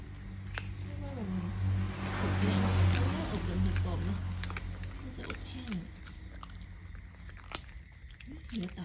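Crispy fried pork crunching during chewing, with short, crisp bites and crackles. Voices talk over much of the eating.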